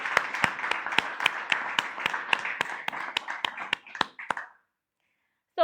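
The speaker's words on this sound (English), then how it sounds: "Let's please give them a warm round of applause." Applause from a panel-discussion audience welcoming the guests, a dense crowd of claps with sharp individual hand slaps standing out, steady for about four seconds before stopping abruptly into silence.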